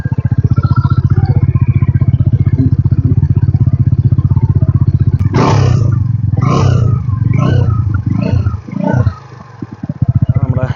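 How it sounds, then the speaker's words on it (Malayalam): A Suzuki V-Strom SX 250 adventure motorcycle idling close by with a steady, throbbing single-cylinder exhaust note. Midway come several sharp revs that rise and fall, then a brief dip before the idle returns. "നമുക്ക് ഈ ഒരു വാഹനത്തിൻ്റെ സൗണ്ട് എങ്ങനെ ഉണ്ട് എന്നുള്ളതൊന്ന് നോക്കാം"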